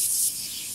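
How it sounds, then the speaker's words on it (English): A brief, close hiss of an airbrush spraying paint onto a realistic eye painting, strongest at first and then softening into a fainter steady spray. "And this is where your airbrush comes in and put a little hair there"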